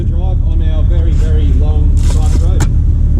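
A freshly rebuilt Nissan Skyline R33 engine idles and revs near the car on a long private road, steady and loud, with people talking over it.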